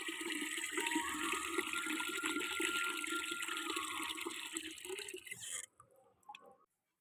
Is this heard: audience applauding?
no